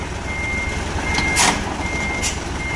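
An Isuzu 360 truck, just fitted with a new clutch plate, sounds its reversing beeper in two or three short high beeps over a steady engine hum, close by and with no talking.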